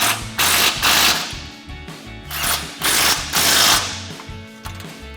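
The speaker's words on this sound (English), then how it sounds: "Now we're gonna go back underneath and tighten down our 2 frame bolts with an" Ratchet with an 18mm socket tightening frame bolts for a Barricade HD4 tubular front bumper on a Jeep Gladiator JT, a rapid mechanical clicking in bursts, close and loud, with no talking.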